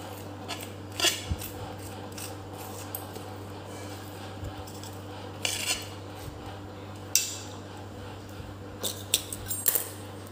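A buttered mixed vegetable paratha is cut on a plate, with sparse clinks and scrapes of a knife or cutlery against the plate over a steady low background hum.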